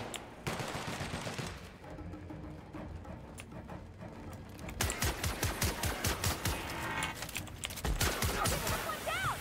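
An automatic turret riding along a track in The Outer Worlds video game fires rapid, repeated bursts of gunfire, loud and close, with the heaviest rattling volleys in the second half and voices talking over parts of it.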